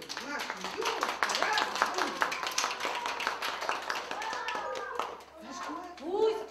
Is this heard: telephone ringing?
no